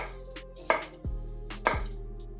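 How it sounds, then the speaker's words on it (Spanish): Garlic cloves chopped with a knife on a cutting board, two distinct thuds of the blade striking the board among softer scraping and handling sounds, close and fairly quiet. "Le cortamos y le picamos."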